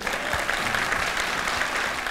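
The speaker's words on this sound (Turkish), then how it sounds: "artık takım ismi söyleyince alkışlanma ne zaman bitecek ya?" An audience at a Turkish open-mic comedy show claps steadily and densely throughout, a loud, even burst of applause with no talk over it.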